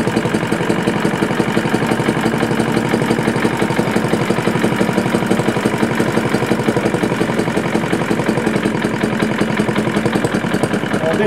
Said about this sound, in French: correction du starter au fur et à mesure de l'échauffement du moteur